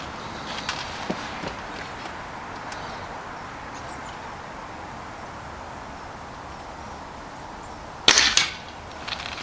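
A Weihrauch HW77K air rifle firing a pellet at a hunter field target: a single sharp crack near the end, standing out from a quiet outdoor background with faint scattered clicks beforehand.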